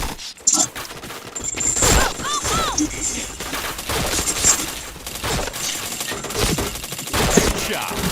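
Rapid bursts of gunfire from a shooting video game, with dense volleys and single shots crowding the whole stretch at close, loud level, plus some faint voice underneath.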